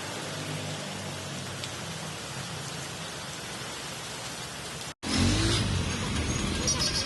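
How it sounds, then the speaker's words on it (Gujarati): Heavy rain in Bhavnagar city, pouring as a dense, steady hiss that suddenly grows much louder and nearer after a brief cut, with a passing car faintly audible. "આજે દિવસભર વીજળીના ગડગડાટ સાથે હળવો ભારે વરસાદ પડ્યો હતો"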